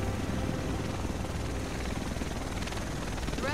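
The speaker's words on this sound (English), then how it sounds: "Here it comes. Oh, I've got a big chopper." A helicopter arriving in the video game The Division, its steady rotor drone loud and continuous throughout with no talk over it.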